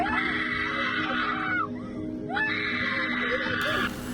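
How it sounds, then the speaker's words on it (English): A child screams in agony on a school bus, two long, shrill, sustained wails broken by a short gasp, heard over a steady engine drone. "you hear the kid screaming in agony while the bus driver just smiles and laughs"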